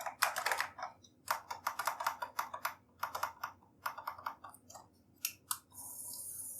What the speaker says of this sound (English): Press any keys to change the pattern.